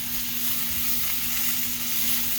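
Mushrooms with black pepper sizzle steadily in a hot, oily pan with a bright crackling hiss, close up, as they are stirred around.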